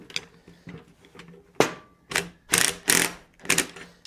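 Nuts being hand-tightened on a steel gate fuller tool in a forge, a series of raspy ratcheting bursts with short pauses between, close and fairly loud.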